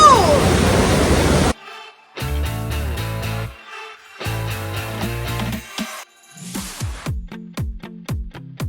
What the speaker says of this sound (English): What do you think about this waterfall?